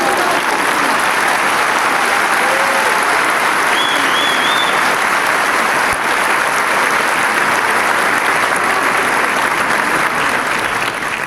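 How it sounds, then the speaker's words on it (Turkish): Sustained, dense applause from a large theatre audience honouring a performer's mother on stage, a steady roar of clapping lasting the whole stretch with a faint shout or whistle partway through. "Hayatım boyunca bir alkış görsün istiyorum"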